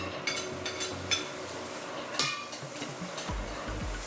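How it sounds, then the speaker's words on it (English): Carrots and zucchini stir-fried in an oiled pan for Korean japchae: a soft, steady sizzle with scattered clicks and scrapes of the utensil against the pan, close by and without talking. "now we're going to go ahead and cook our carrots and zucchini"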